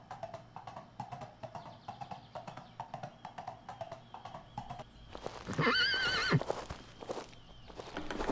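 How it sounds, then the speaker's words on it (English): A horse in the video game Bandit Brawler clip-clops in a steady rhythm, then lets out a loud whinnying neigh over the footfalls. "Shut up, horse."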